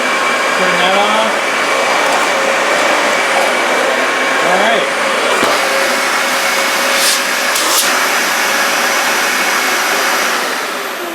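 A Dyson Ball vacuum cleaner with a replaced motor, running with suction and a turning brush bar. A loud, steady whine and roar continues throughout, with small pitch shifts as it is moved.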